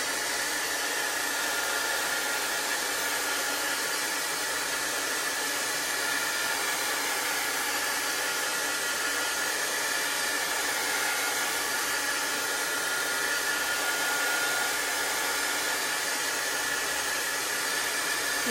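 A hair dryer blows a steady, even whoosh over a chalk paste transfer for about eighteen seconds, unbroken and fairly quiet, with no one talking.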